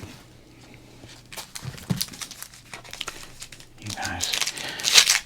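Wrapper crinkling and tearing as a pack of 1991 Donruss baseball cards is opened close up, soft rustles building to louder crackly bursts near the end, with a voice speaking faintly.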